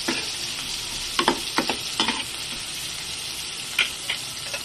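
Marinated beef deep frying in a pan, a continuous bright sizzle with a few sharp crackles and stirring clinks scattered across it, close and unaccompanied by speech.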